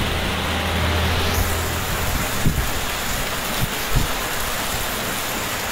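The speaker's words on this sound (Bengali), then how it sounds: "কারণ অতি বৃষ্টি সাথে বাতাস।" Heavy rain driven by wind during flooding in Cox's Bazar makes a dense, constant hiss and roar, with a few faint thuds and bumps scattered underneath.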